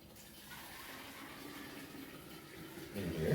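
Black tea being poured into a container to fill it gives a faint, steady trickle that swells into a louder splash at the end.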